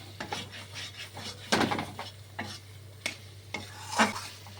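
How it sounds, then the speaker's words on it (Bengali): Snake gourd and potato posto curry, its water mostly cooked off, is stirred in a pan: a handful of short, close scraping and rubbing strokes over a faint sizzle. "এবার আবার একবার নাড়াচাড়া করে নিচ্ছি"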